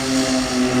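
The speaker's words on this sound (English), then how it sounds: "And Jack Newton, give the Golden Knights jump airplane and the pilots a big wave" Brief burst of a propeller airplane flying at the EAA AirVenture Oshkosh air show, a loud, steady engine drone with a strong humming tone, close and continuous.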